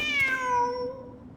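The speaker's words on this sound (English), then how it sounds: "The cat!" A cat in the Genshin Impact video game gives one long, close, clear meow that slides downward in pitch and fades out, with no talking.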